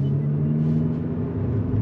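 A 2024 Abarth 500e Turismo, a front-wheel-drive electric car, plays a simulated engine rumble while driving, a steady low drone heard from inside the cabin with no talk.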